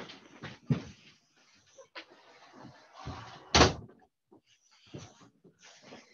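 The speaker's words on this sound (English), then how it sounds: "hang on, I've just got to close the door." A door is closed indoors, giving a sharp thud in the middle among scattered quieter knocks and shuffling, with faint movement before and after.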